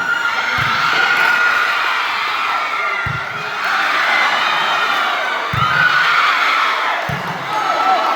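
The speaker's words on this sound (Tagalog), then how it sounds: "Grabe sigawan ng mga tao." Crowd at a local volleyball match between two barangay teams cheers and shouts loudly and continuously, the roar swelling and ebbing with a few sharp low thumps from the court.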